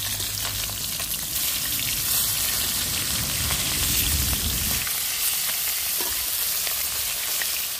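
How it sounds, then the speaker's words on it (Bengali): Pieces of rohu fish frying in hot oil in a pan, a loud, dense, steady sizzle with stirring and shifting sounds as the pieces are turned over one by one, close up and without talk. "মাছগুলো এক এক করে উল্টিয়ে দেবো।"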